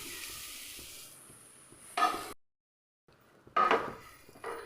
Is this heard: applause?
no